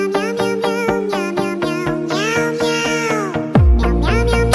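Cartoon cats meow back and forth in a rapid run of close, loud, tonal cries, a quarrelling pair trading calls with almost no pause, ending in a longer, drawn-out yowl.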